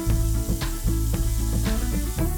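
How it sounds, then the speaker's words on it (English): Garlic frying in a little oil, a dense close sizzle with rhythmic stirring scrapes about every half second, for a yum yum sauce on a Korean fried chicken recipe; no talk. "Add a little bit of oil, fry the garlic."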